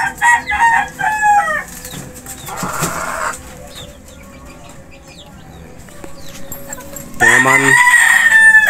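Gamefowl roosters, half Gilmore and Sweater crosses, crow and cluck close by: several sharp repeated calls at the start, quieter scratchy fowl sounds in the middle, then a loud full crow at the end.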